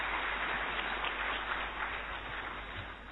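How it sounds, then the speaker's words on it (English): An audience at a real estate taxation workshop claps steadily for a few seconds, a dense, even patter of many hands that eases slightly toward the end. "Please give him a big round of applause once again."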